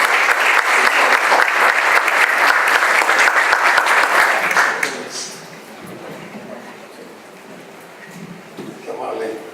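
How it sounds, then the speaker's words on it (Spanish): An audience at a church conference in Monclova claps loudly to welcome a speaker, dense and sustained for about five seconds before cutting off, followed by quieter room sound and faint movement. "démosle un aplauso para darle la bienvenida a Ramiro Delgadillo"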